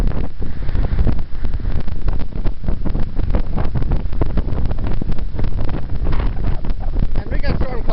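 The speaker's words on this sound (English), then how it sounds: "That's windy." Strong wind buffets the microphone in a rural berry garden with pine trees ahead of a storm, a constant loud roar and rumble with gusty crackling bursts that runs the whole time.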